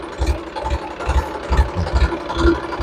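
A Massey DI 5245 tractor engine idles close by after a crown pinion fitting, a steady low diesel rumble with rhythmic heavy thumps roughly every half second.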